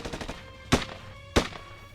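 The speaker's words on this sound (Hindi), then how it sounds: "लगातार गोलियां बरसा रहा था" Gunfire rings out during a police encounter with an ISIS terrorist hiding in a house: a quick burst of shots, then two sharp, loud reports spaced about half a second apart.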